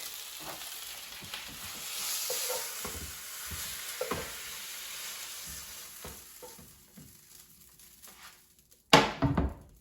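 Asparagus sizzles and crackles steadily in a hot frying pan on a stovetop, with scraping and tapping from a utensil stirring, then a louder clatter near the end.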